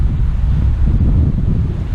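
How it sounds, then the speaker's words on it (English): Gusty wind at an outdoor park buffets the microphone in a steady, loud low rumble that holds for the whole stretch with no voices. "I know it's windy out right now"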